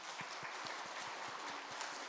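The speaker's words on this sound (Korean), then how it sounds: "우리 한번 박수하겠습니다." A congregation claps in a church during a Sunday worship service, faint, distant rhythmic clapping with a steady beat, quiet and low in level throughout.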